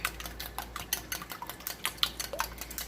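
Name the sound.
whisking eggs in a bowl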